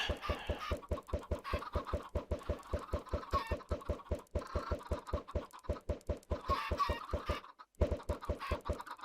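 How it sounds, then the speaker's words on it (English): Many chickens in Minecraft on an egg farm built with the Create mod, a fast, steady stream of rhythmic mechanical clicking or pecking with faint clucks above it, close and continuous, briefly dropping out near the end. "We've got a reasonable number of chickens."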